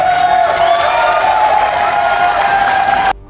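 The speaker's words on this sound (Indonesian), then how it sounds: "tepuk kalian" At a vocational school internship presentation, a crowd responds with a loud, sustained roar of cheering and clapping mixed with shouts, ending abruptly.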